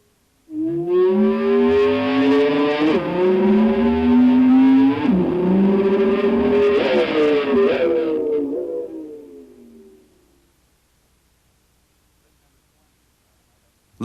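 An electric guitar with the whammy bar dived fully down and the volume knob swelled up, mimicking a revving engine: sliding, bending tones rise and fall in several rev-like surges for about ten seconds, then fade to silence.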